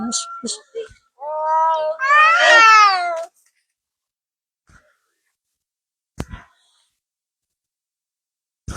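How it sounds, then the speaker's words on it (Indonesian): Cats fighting near a farmers' group meeting house let out a long, rising and falling meow lasting about two seconds. A few short sharp noises come before it, and scattered faint clicks follow in otherwise quiet surroundings. "Ada kucing berantem."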